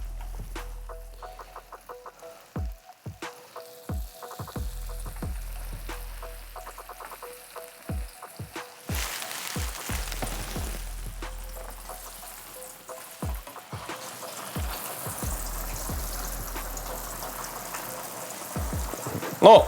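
An onion flower deep-frying in plenty of bubbling, boiling-over oil, a steady close sizzle broken by frequent sharp crackles and pops, with louder spattering later on and no talk.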